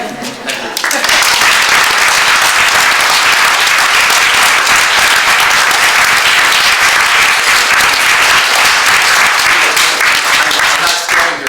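Loud, dense audience applause at a literary panel event, bursting in after a brief moment of quiet and continuing at full strength without letting up.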